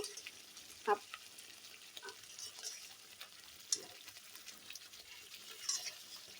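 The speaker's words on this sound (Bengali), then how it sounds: "অল্প হলুদ দিয়ে দিলাম দিয়ে এখন কষিয়ে নিচ্ছি" Spices and turmeric are sautéed for chicken curry, a quiet sizzle broken by a few sharp clinks and scrapes of a spoon against the pan.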